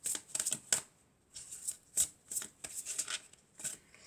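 Oracle cards being shuffled by hand during a reading, a quiet, close series of soft riffling flutters and taps in irregular bursts with short pauses, no talking.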